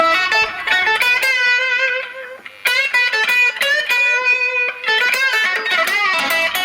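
Electric guitar through a Line 6 Spider Classic 15 amp with a Line 6 FBV MkII wah pedal, a subdued wah sweeping the notes as phrases are played, bright and loud with brief pauses between passages.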